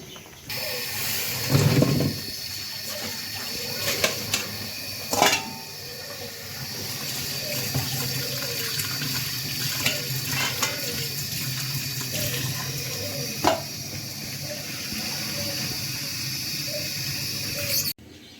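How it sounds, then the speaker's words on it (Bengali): Boiled taro being washed in cold water in a kitchen: steady running and splashing water throughout, with a few louder knocks and sloshes near the start and scattered handling clatter. "এখন এটাকে আমি জাস্ট নামিয়ে ঠান্ডা পানিতে ধুয়ে নিব"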